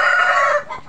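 A rooster and hens in a backyard coop, one loud close crow that holds steady and then tails off near the end, with a soft cluck after it.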